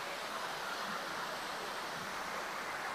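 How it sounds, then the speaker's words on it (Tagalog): Strong rushing water at a cave resort, with slippery mossy rocks nearby, a steady broadband roar that holds evenly throughout without pause, close and fairly loud, with no voices over it. "Malakas yung tubig guys."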